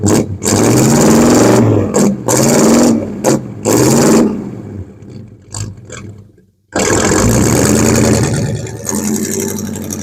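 A car engine drives and revs, loud and close, pulsing through gear changes with brief drops, then cuts out to near silence before roaring back steadily.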